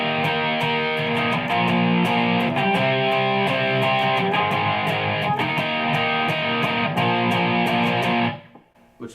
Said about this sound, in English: Here we have more of like a, hard rock overdrive distortion sound.